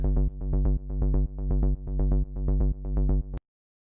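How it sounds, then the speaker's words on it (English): A deep synthesizer bass line pulses in steady repeated notes with a bouncy rhythm, playing alone and stopping abruptly near the end. "And then the bass line."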